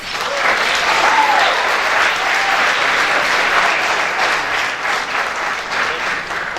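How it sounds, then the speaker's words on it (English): A hall audience claps steadily and loudly for nearly seven seconds, a dense, even wash of many hands with no voices standing out. "Give yourselves a round of applause."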